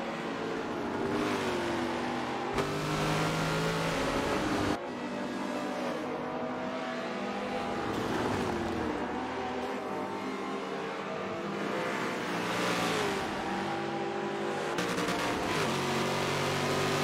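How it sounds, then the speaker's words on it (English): Race car engine in Forza Motorsport 7 on the Nordschleife, screaming continuously at high revs with rising pitch sweeps through gear changes and brief drops between shifts, loud and steady throughout with no talk. "I like to see this car flying down that straightaway at 180 miles per hour"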